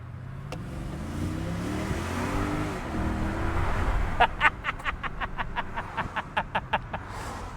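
Mercedes-Benz R500 in sports mode accelerating hard from inside, a low rising engine drone building steadily, followed by a quick series of sharp ticking clicks, with faint voices underneath.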